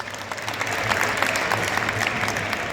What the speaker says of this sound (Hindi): तो बच्चों, रेफरीज के लिए भी बहुत जोरदार तालियां होनी चाहिए